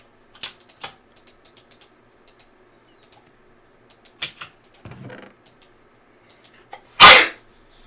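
A single loud, sharp sneeze bursts out near the end, after scattered soft computer keyboard typing clicks in a quiet room.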